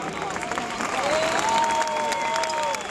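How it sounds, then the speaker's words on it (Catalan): An evening crowd gathered at Casa Batlló applauds Antoni Gaudí, a thick, continuous patter of many clapping hands with a clear sustained tone gliding beneath it, holding steady throughout. "El primer aplaudiment de la nit, primer perquè no plou, ha de ser per Antoni Gaudí"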